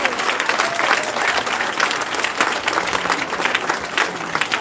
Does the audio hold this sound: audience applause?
yes